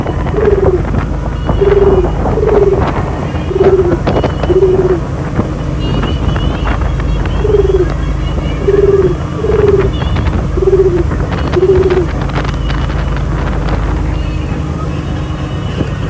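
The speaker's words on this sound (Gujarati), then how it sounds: "એટલો બધો પવન ચાલુ છે કે કલા પણ નથી ઉડી શકતા" Steady strong storm wind roars over open sea around a fishing boat, with a repeated short bird-like call cutting through in two bursts.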